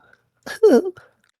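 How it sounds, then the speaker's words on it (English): A short, voiced cough-like throat sound, close and deliberate, with a brief breathy lead-in and nothing else around it. "The little fake cough."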